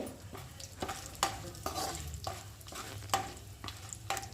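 Soya biryani ingredients go into hot oil, frying with a close, steady sizzle as a spoon scrapes and stirs the pan in repeated strokes, with no one talking.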